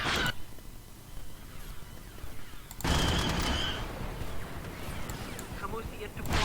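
Units open fire in Empire at War: bursts of rapid gunfire and blasts, with a sharp loud volley near the middle, mixed with voices and battle noise.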